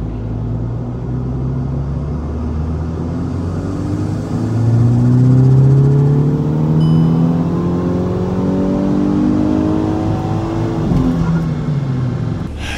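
A tuned VW Golf 6 R revving hard on a dyno, its engine note climbing steadily through the gears in long rising sweeps, loud and close, then dropping away near the end.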